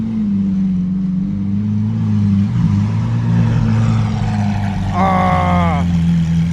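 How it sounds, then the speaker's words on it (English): Lamborghini Aventador SVJ engine running loud and close with a steady deep drone, then a sharp rising rev near the end; a voice talks over it. "This is a freaking SVJ here and it sounds crazy"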